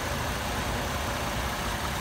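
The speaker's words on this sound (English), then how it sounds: "The engine noise sounds great to me." The engine of a Chevrolet Trailblazer runs steadily, a close, even, broadband rumble at constant loudness with no voices over it.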